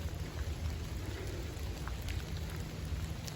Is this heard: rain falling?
yes